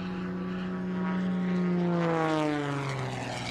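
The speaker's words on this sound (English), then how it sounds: "A torque roll, hanging it on the whirlwind propeller, backing it up." A whirlwind propeller on an aerobatic airplane drones steadily and loudly through a torque roll at an air show, its pitch sliding slowly downward as the engine note shifts.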